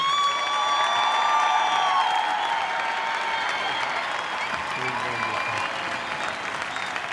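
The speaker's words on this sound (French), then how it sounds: "il mérite vraiment un tonnerre d'applaudissements" A comedy stage-show audience in France breaks into loud, sustained applause with scattered cheers, a dense clapping wash that stays steady and fills the room throughout.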